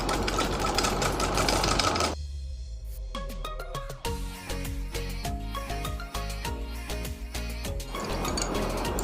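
A sewing machine stitches a katori cut blouse, its needle running in a fast, steady mechanical chatter. The run is loud and close, broken by a brief pause and then a slower stretch of distinct individual stitches before full speed resumes.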